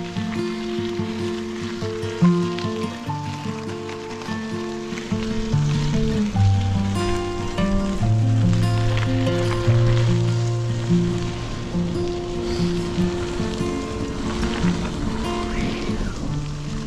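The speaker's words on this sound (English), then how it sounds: "I mean, it's raining, but not as much." Rain patters steadily on a surface during a bikepacking trip in Sweden, a continuous hiss of drops beneath a low droning tone and some background music-like notes.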